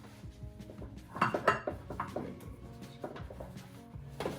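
A hot baking pan of sticky buns is flipped over onto parchment, giving a cluster of metallic clanks and scrapes that peaks midway, then lighter knocks and rattles, close and fairly loud with no talking.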